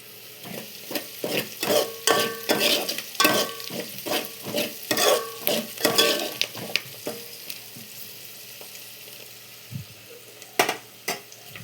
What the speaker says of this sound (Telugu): కరివేపాకు వేసుకొని కలుపుకుందాం.